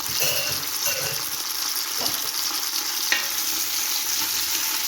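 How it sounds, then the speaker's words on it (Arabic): Meat frying in melted ghee and oil in a pot, a steady close sizzle with faint stirring clinks and scrapes throughout, no talk. "نحطوا اللحم اللي يكون عندنا فوق هذاك السمن والزيت"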